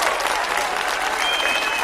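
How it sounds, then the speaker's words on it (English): Steady applause from in-house studio guests fills the room throughout, a dense wash of clapping from a small crowd, moderately loud and continuous with no pauses. "Can we get a little background clapping from our in-house studio guests over there?"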